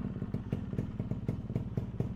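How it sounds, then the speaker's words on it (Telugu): A kick-started Yamaha RX-135 two-stroke motorcycle idling after a cold start, with a rapid, rhythmic popping beat and light clatter that stays close and steady with no talk. "ఒక 2-3 కిక్స్కి అయితే స్టార్ట్ అయిందనమాట"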